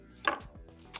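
A knife chops vegetables on a board while making patatokeftedes, Greek crispy potato bites. A sharp, close chop is followed by a lighter one about half a second later, with no talking.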